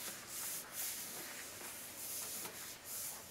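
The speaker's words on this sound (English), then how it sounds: "So lightly spray the back of the front side of the card" Temporary spray adhesive misted lightly onto the back of a greeting card for machine embroidery, heard as several short, soft hissing bursts close by with brief gaps between them.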